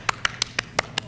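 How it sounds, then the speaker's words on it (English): Six sharp, evenly spaced hand claps at a high-school speech contest, crisp and fairly close, with no cheering or talk over them. "Big round of applause."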